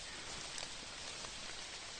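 Rain falls steadily in a Carpathian forest, a soft, even hiss of drops on leaves and ground with faint scattered patters, heard alone without speech.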